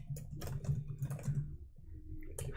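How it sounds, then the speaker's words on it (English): Furious typing on a computer keyboard, a quiet, steady patter of rapid key clicks in short flurries with brief pauses. "Furious typing."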